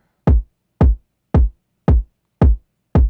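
Six punchy kick drum hits for a pop beat, evenly spaced about half a second apart, each with a deep boomy low end and a quick click on top, played alone with no other instruments or voices.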